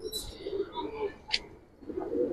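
Giribaz pigeons coo softly at close range in a short run of low, rolling calls, with a brief higher chirp partway through.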